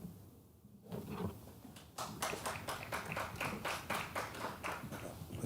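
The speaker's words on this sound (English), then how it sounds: "A smattering of applause." A thin smattering of applause at a school closing ceremony: scattered, uneven hand claps start after a brief pause and keep going steadily for several seconds, sounding light and somewhat distant.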